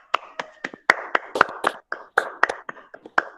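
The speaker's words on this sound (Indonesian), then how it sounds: "Tepuk tangan untuk kelompok 1" Students in a classroom clap for a presenting group, a small scattering of distinct, close hand claps in an uneven rhythm, roughly a dozen separate slaps over a few seconds with no talking.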